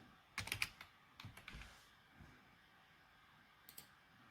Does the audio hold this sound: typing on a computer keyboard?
yes